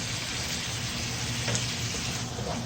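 Fenugreek and nigella seeds sizzling in hot oil for a fish curry: a continuous dense hiss and crackle at steady loudness, with a brief brighter spurt midway.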